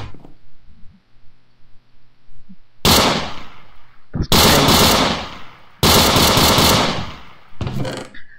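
Loud bursts of automatic gunfire from a Minecraft gun mod, with three long rattling volleys and a shorter one separated by pauses, over a faint low game background hum.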